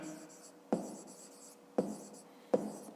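A pen scratches on paper during a fifth-grade maths exercise on division with a remainder, with a steady faint scratching broken by three sharp taps as strokes land, all against a quiet room hiss.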